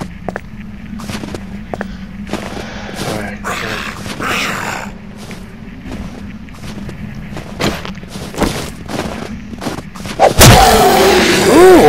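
Gunfire in the zombie survival video game 7 Days to Die: a series of sharp, punchy thuds among footstep-like knocks, with a louder burst near the end, under a voice talking.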